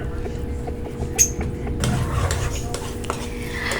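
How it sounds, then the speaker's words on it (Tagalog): A utensil stirring a tomato paste mixture in a pan, scraping and clinking against the metal in a loose rhythm with a brief louder clank, a soft sizzle underneath. "At saka halu-haluin hanggang sa mag-mixture na siya"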